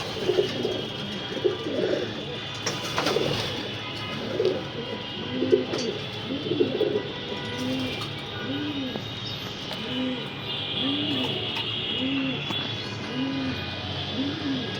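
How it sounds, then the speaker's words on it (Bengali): Racing pigeons coo in a steady series of soft, rounded, repeating calls close by, with faint background noise and occasional voices. "এখানে আমার রেস টিমের কবুতর যেগুলো রেসে যাবে"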